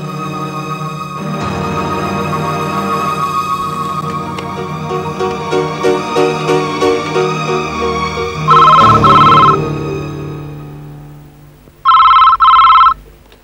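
A telephone bell rings in two loud bursts near the end, following a stretch of background music.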